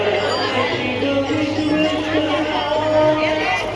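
A crowd of pilgrims at the Rajiv Lochan temple during the Rajim Kumbh Mela makes a steady, dense hum of chatter and murmuring with no breaks, heard up close and fairly loud.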